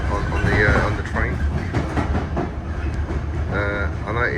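A London Underground Piccadilly line train runs with a loud, steady rumble and rhythmic clickety-clack of wheels on rails, and brief squealing tones rise over the noise.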